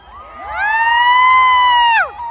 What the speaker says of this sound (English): Give me a cheer for Bradford, the city of culture